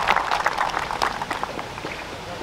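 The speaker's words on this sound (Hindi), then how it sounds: "जिसके लिए एक बार फिर से जोरदार तालियां" Audience at an ex-servicemen rally run by the 16 Kumaon Regiment in Churachandpur District claps in a dense, irregular patter, strongest at the start and gradually thinning.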